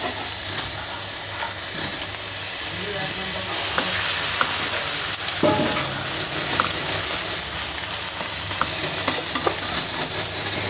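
Egg mixed with capsicum, tomato, onion and green chili frying in a pan, a steady broadband sizzle running throughout with scattered clinks and scraping stirs, fairly close and loud, with no talking.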